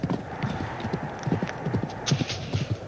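Horse hooves clip-clop in a steady walking rhythm as a sound effect, clear and fairly close, with faint background wind and no talk.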